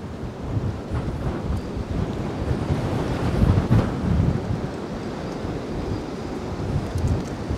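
Strong wind gusting by the water while catfishing after ice out, a steady loud roar of buffeting rumble across the whole stretch with no voices.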